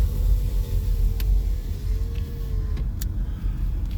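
A car engine idles and hums steadily nearby as another driver seems to be challenging for a race, with a constant low drone and a few faint clicks.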